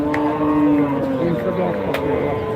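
A large cow lowing at a busy cattle market, one long, close, drawn-out moo over a low background of market noise.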